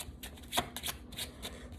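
Tarot cards being shuffled by hand in quick, papery riffling bursts, one sharper slap in the middle, with no voices over it.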